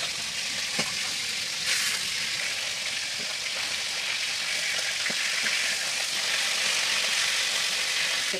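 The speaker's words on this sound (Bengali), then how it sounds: "আমি এদিকে মাছ ভেজে নিচ্ছি" Pona fish frying in oil in a pan, a dense continuous hiss of sizzling at close range with a few faint clicks and knocks scattered through it.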